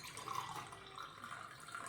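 Water poured into a pan in a home kitchen to make jaggery syrup gives a short, quiet trickling splash.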